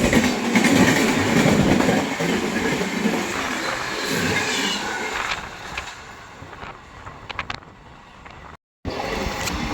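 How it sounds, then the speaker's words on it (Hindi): The Howrah–New Delhi special express runs past Dhankaur station. A loud, steady roar of the moving train carries on with rhythmic wheel clatter and some rattles, and it drops briefly near the end. "अपनी ट्रेन निकल रही है धनकौर स्टेशन से"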